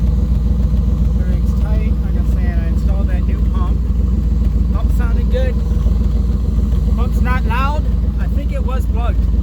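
A truck engine with throttle-body injection idles with a slight misfire, a loud steady low rumble throughout with faint irregular stumbles, while someone talks over it.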